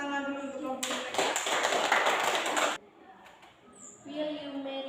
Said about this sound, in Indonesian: tepuk tangan dulu untuk kelompok mereka